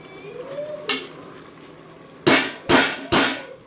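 Goat tripe curry is stirred in a pot after chili powder and salt go in, giving one short scrape followed by three loud, rough metallic strokes close by.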